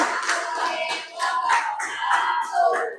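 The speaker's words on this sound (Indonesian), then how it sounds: "Boleh tepuk tangan dulu baru salam." An audience claps in a classroom for about three seconds. The applause is fairly close and swells in uneven bursts.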